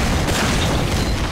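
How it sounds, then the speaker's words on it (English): Rocket explosions in Team Fortress 2 merge into a loud, dense, rumbling blast with heavy low-end booming that fills the moment without a break. "people are shooting rockets at me"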